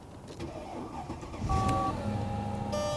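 A Mercedes with Airmatic suspension cranks and its engine catches into a steady idle, with steady electronic warning tones sounding over it from inside the car and no talking.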